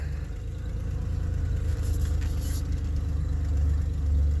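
An 1988 Chevy project truck engine pulls steadily in third gear, low range, a low, continuous rumble with a faint rise in revs toward the end, heard from inside the cab with no talking.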